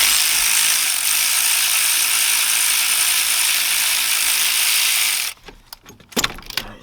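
A ratchet clicking rapidly and steadily while loosening a spark plug on a 2000-2006 Chevy Suburban, close and loud for about five seconds, then stopping with a few scattered knocks and clinks of handling.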